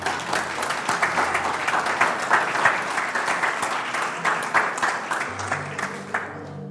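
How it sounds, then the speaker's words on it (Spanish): A church congregation claps in praise to the Lord, a lively crowd applause with distinct rhythmic hand strikes that swells, then thins out toward the end. "Denle un aplauso al Señor."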